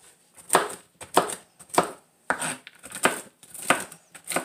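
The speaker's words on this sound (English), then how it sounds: "I like to add walnuts to the batter and on top. So, just going to give it a rough chop." Walnuts being rough-chopped with a knife on a cutting board for banana nut bread: about eight sharp, evenly spaced chops close up, with brief pauses between them.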